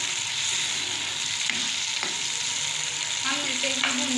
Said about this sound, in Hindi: हम मज़ीद इसको 2 से 3 मिनट भूनेंगे।